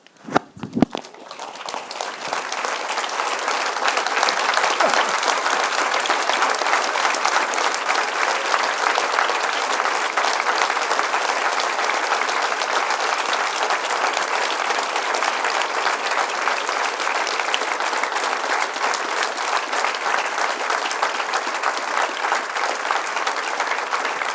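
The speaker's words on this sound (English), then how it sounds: "we'll do a round of applause" A large audience at a tribute event gives a long, sustained round of applause, dense and steady for over twenty seconds after a few sharp first claps.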